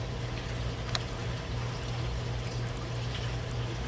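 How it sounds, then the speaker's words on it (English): Water in an aquarium frozen-food auto feeder bubbles and churns in a steady, even wash that carries on without a break, with a few faint clicks. "you can see the bubbling."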